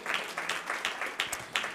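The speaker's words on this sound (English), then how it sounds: "Let's give the Lord a clap offering." A church congregation gives a clap offering at a Sunday service, clapping together in a steady rhythmic beat of quick, evenly spaced bursts, moderately quiet with no talk over it.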